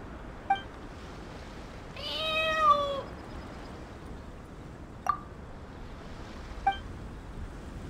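Cats meow in the video game Genshin Impact, with a drawn-out wavering meow and a few short chirps spread across the span. They are soft and moderately distant over a quiet ambient wash, with no talking.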